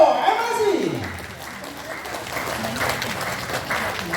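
Audience applause at a community gathering and cooperative forum in East Java greeting a provincial legislator, a steady wash of clapping with a voice speaking over it, moderately loud and near.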